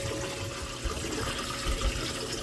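Water runs steadily from a hose nozzle into a 50-gallon saltwater fish tank, a continuous moderate rushing and splashing with small surges, heard up close and alone.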